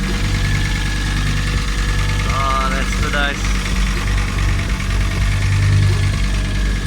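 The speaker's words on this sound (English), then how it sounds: "the 5-cylinder does have a very unique sound to it" A five-cylinder 20-valve turbo car engine idles with a steady, lumpy mid-pitched thrum throughout, after a blowing exhaust joint was fixed, while a person briefly speaks over it.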